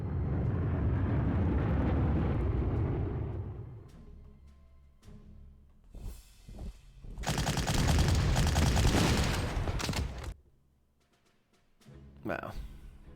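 Attack fire in the Panzer Corps wargame during a naval and artillery fight over Crete, heard as heavy rumbling gunfire and explosions in several loud bursts separated by quieter gaps, with a voice talking in places.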